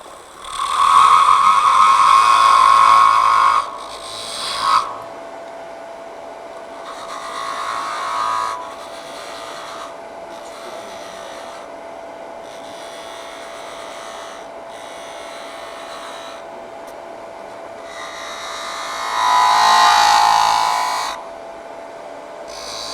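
A metal lathe parting off a workpiece gives bursts of harsh, raspy cutting noise, loud at first, then a long quieter stretch and another loud burst near the end, over a faint steady motor hum.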